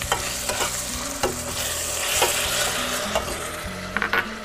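Tomato paste being stirred into tomatoes in a sizzling pan for Turkish dolma, a continuous frying hiss with regular spoon scrapes and knocks against the pan, close up and without talking.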